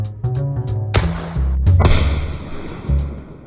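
Heavy .500 Smith & Wesson Magnum revolver rounds fired outdoors, a couple of loud booming reports with a sharp crack and a long rumbling tail, close to the listener.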